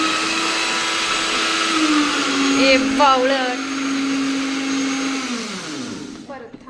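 An electric mixer grinder whirs loud and close at a steady pitch during cake-making at home, winding down near the end, while people speak over it.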